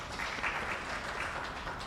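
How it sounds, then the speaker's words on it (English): A short burst of conference audience applause, moderately faint, with clapping at an even density for under two seconds. "give our applause, another round of applause."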